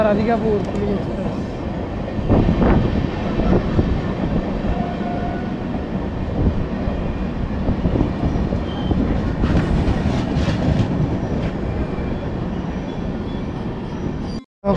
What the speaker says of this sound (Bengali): ফাইনাল ট্রেন ছাড়ে দিল।